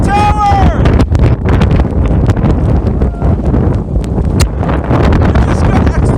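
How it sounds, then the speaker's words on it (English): Strong wind roars steadily and loud across the microphone during a hike through a severe snowstorm with cold blasting gusts, with brief voices and whoops at the start. "It just got exponentially windier!"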